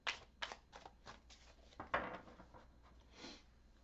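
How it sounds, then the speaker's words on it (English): A deck of tarot cards is shuffled by hand in a quiet room, giving a series of soft riffling and slapping bursts in an irregular rhythm, close but faint. "shuffle a little bit more here."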